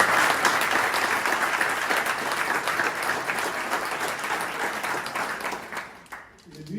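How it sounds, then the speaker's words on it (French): Applause from a conference audience honouring panelists at a procurement event, a dense, steady wash of many hands clapping close by for most of the stretch before tapering off near the end. "Je pense que nos panélistes méritent une belle applaudissement."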